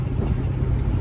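A car engine running steadily on the drive home, a close, loud low rumble inside the cabin that holds unchanged for a moment.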